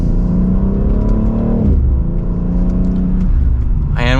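A 2024 BMW X3M Competition accelerating from second gear, its engine note climbing steadily in a loud, close cabin drone, dipping briefly at a shift and then rising again.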